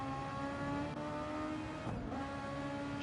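Super Formula race cars scream around the Nurburgring GP circuit in a racing game, a sustained high engine whine that shifts pitch briefly near the middle as the cars power out of a corner.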